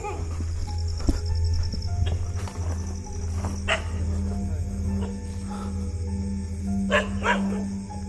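A dog barks in short bursts at a distance outdoors at night, the barks sitting over a steady background of crickets and a low continuous hum.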